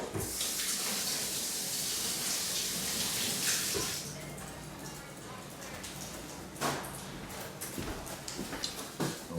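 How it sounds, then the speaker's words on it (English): A kitchen tap runs steadily as hands are washed beneath it, a loud close hiss of water for about four seconds, then fading to quieter splashes and clatters while a person talks. "Wash my hands"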